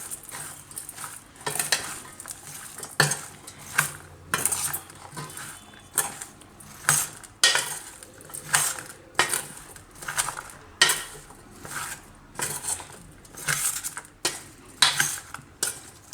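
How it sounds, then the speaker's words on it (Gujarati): Repeated scraping and clinking of a spoon mixing spices in a bowl, rhythmic strokes roughly every second, close and fairly loud, with no talking. "આ બધું મિક્સ કરી લેવું."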